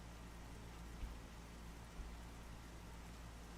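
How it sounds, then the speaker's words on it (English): Steady rain falls in the game Oblivion, a soft, even hiss that stays faint and continuous throughout with no talking. "Is it just because it's raining?"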